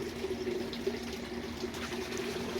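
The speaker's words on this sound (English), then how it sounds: "leave one hole so it's easy for you to pour the water instead of watering on the top" Water poured gently into a seed tray of desert rose (Adenium) seeds, a soft steady trickle and splash, faint and close with no talk.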